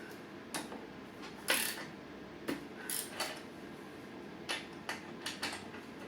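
Sharp metallic clicks and ratcheting taps from a tool working a bolt loose on a Suzuki Intruder Volusia VL800 motorcycle during disassembly, coming in irregular bursts over a quiet background.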